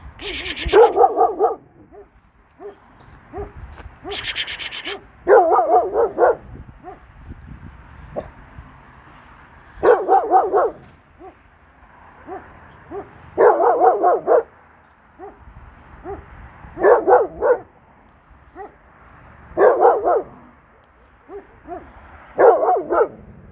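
A Kangal dog barks repeatedly in short clusters at a steady pace, fairly close, with a brief high-pitched yelp near the start, reacting to an unfamiliar dog.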